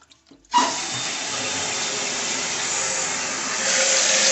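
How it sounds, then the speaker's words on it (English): Water rushing through a newly repaired toilet supply valve into the tank, beginning abruptly after a brief quiet with a clunk and then holding a steady hissing flow that grows slightly louder toward the end. "it's the water flowing"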